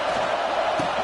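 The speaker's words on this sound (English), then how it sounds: "This crowd trying to make life miserable for this offense." Broad, steady wash of stadium crowd noise from a football video game, loud and continuous with no distinct peaks over the short stretch.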